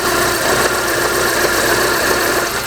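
A car engine runs steadily with an abnormal noise caused by a broken engine mount, a loud close-up droning hum with rough vibration and no voices.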